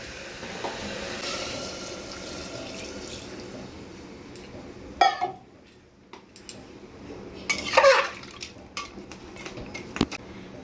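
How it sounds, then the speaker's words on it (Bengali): A pressure cooker lid is set on and locked while chicken stew cooks, giving a few sharp, close metallic clanks and clinks with quiet kitchen stillness between them. "এবার প্রেশারের ঢাকনাটা আটকে দেবো"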